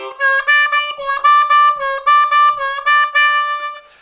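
Blues harmonica on a C harp repeating a triplet lick with a four-draw half-step bend and release, clear, reedy bursts in a steady rhythmic pattern, close and loud with no other sounds.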